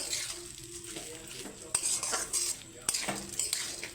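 Rice being stirred in a pan while preparing a special rice dish: a spoon scrapes and clinks against the metal pan in quick irregular strokes over a faint sizzle, close by, with no talking.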